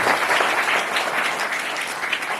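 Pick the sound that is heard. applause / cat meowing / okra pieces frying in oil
applause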